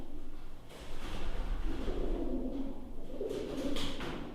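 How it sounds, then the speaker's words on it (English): Soft, low pigeon coos repeat a few times in a hollow, echoing space, over faint background hiss and occasional thuds. "the ominous calling of what sounds like pigeons somewhere above the explorers also becomes apparent"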